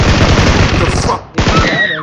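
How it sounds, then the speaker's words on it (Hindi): Rapid automatic gunfire in the mobile game BGMI: loud, close bursts of shots, a brief gap, then another burst with a ringing tail. "अब मेरी गोलियों की आवाज सुन के उस बंदे की फट गई"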